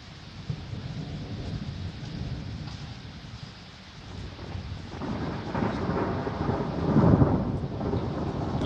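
Steady rain falls on a street as a broad, constant hiss, with a low rumbling swell building toward the end and no talking.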